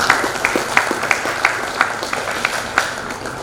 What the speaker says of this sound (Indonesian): Tepuk tangan buat para guru-gurunya